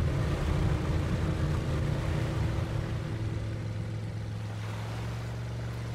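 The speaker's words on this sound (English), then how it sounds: "The waves are too strong." Strong waves surge and wash near rocks at sea, a dense, steady roar of rushing water with a low rumbling undertone, loud and continuous without any voices.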